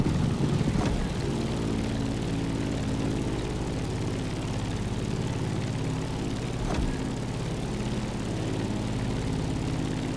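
Aircraft engine climbing in the racing video game The Crew Motorfest, a steady propeller drone that holds level and loud throughout with no talk over it.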